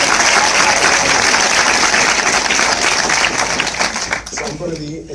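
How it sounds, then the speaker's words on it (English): An audience at a film festival screening event gives a loud, sustained round of applause, dense clapping filling the whole stretch before thinning out near the end. "Can we get a round of applause?"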